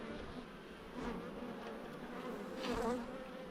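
Honeybees buzzing at an opened hive during a nuc amalgamation, a dense continuous drone with individual bees swelling louder as they pass close, no voices.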